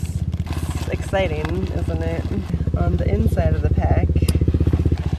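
A motorcycle engine putters steadily nearby with a rhythmic low thrum, growing a little louder, while a person talks over it outdoors on the Pacific Crest Trail.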